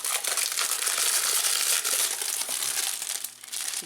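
Sheets of patterned designer series paper from a Stampin' Up! haul crinkle and rustle as they are handled, a close, continuous papery crackle with brief pauses.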